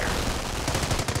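Rapid gunfire bursts in the Company of Heroes battle at the Cauquigny causeway, a dense stream of close, loud shots that grows into sharper repeated cracks toward the end.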